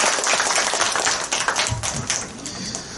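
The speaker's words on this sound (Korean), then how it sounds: "큰 박수 부탁드립니다." An audience applauds at a family talk concert, a dense patter of claps filling the short stretch with steady, fairly loud energy that thins slightly near the end.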